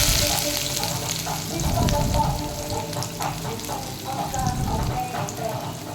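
Chopped onions sizzle and crackle in hot oil with steady frying hiss, broken by the scrape of stirring and a few clinks.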